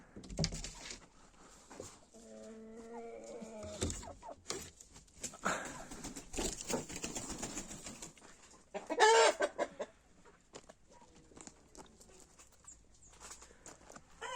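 Chickens and roosters being let out of their coop, with clucking and excited squawks scattered throughout and a loud burst of calls midway, over background rustling and movement.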